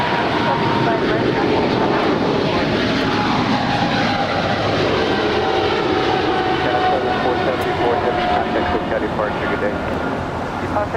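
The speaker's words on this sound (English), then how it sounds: "This is China Southern Cargo Flight 474 departing to Guangzhou. It's a Boeing 777 freighter." A China Southern Cargo Boeing 777 freighter departs LAX with a loud, steady jet engine roar that stays strong and continuous throughout, a faint whine riding above the broad rumble.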